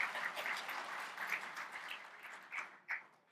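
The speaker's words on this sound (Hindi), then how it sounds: "जितनी जोर से ताली बजाएंगे उतना अच्छा लगेगा" An audience at an Ayurvedic natural drug development lecture claps, a scattered patter of hands that swells, thins out and ends with a few last claps.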